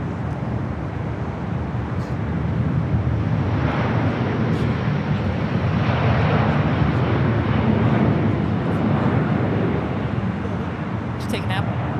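A Delta Airlines A330neo airliner departing LAX gives a broad, loud jet roar that swells in the middle and then eases off, with people talking over it.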